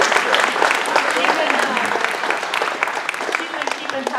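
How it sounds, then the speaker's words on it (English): An audience at a GOP rally for state elected officials breaks into applause, with dense and steady clapping that carries on throughout at a moderate distance. "let's give her a round of applause."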